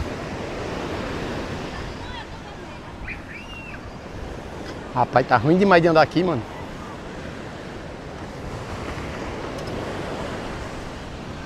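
Ocean waves break on the beach at Boa Viagem in Recife, a continuous rushing surf wash mixed with wind buffeting the microphone. Someone speaks briefly over it midway through.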